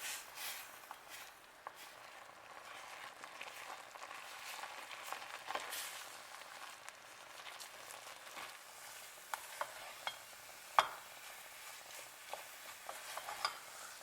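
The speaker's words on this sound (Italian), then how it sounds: "andiamo a calare tutto d'un colpo la farina e cominciamo a mescolare" Flour is stirred into boiling liquid in a pot to make zeppole choux dough, giving a faint, continuous scraping and gentle bubbling, with a few sharper knocks of the spoon against the pot.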